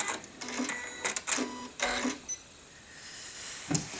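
Sewing machine stitching fabric for bleachwork embroidery, heard as several short, quiet mechanical whirring bursts with brief pauses between them, close by and without speech.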